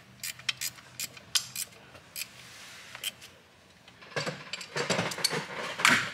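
Wrench work on the turbo up-pipe bolts of a 6.0L Power Stroke diesel during a KC Stage 2 turbo install: a run of quiet metallic clicks and ratcheting taps, followed by denser clattering and scraping near the end.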